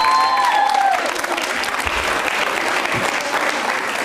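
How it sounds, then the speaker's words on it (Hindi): An audience at a college quiz show applauds a contestant, a loud, steady wash of many hands clapping for about four seconds, with a brief voice audible at the very start. "रश्मि पारिक जी के लिए तालियां जोरों से बजाइए"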